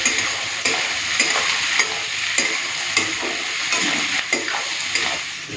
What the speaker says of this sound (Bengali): পেঁয়াজ ভাজার সময় নুন দিয়ে দিচ্ছি দিয়ে দেবো দুটো তেজপাতা তারপরে পেঁয়াজটাকে লাল করে ভেজে নেবো